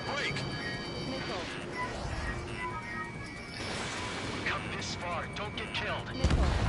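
Gunfire in the combat flight game Ace Combat 7: Skies Unknown, rapid crackling bursts under steady jet roar and game effects, with someone talking over it.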